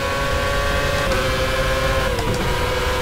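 A race car engine in the rFactor racing simulator drones at high revs, a loud steady whine with a slight dip in pitch as it carries speed through a corner.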